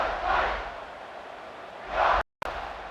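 Stadium crowd roaring in College Football 26 during an Oregon vs Liberty game, broad cheering swelling at the start and again near the end, cut by a brief silent gap.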